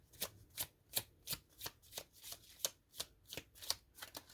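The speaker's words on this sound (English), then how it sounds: "I think I'm going to shuffle a couple more times" A deck of tarot cards is shuffled in quick, even riffles, about a dozen crisp papery bursts in steady rhythm, close and quiet with no voices.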